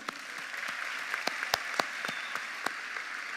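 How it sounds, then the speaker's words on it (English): Graduation audience at a high school ceremony applauds for a speaker, a steady wash of clapping with a few sharp, close claps standing out. "Let's give Mr. Burke another round of applause"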